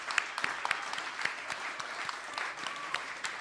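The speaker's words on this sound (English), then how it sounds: "A big round of applause to all of our amazing speakers." An audience applauds at a live speaking show, dense steady clapping with a few sharper claps standing out, heard close and without talk.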